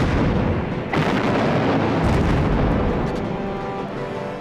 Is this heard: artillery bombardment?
yes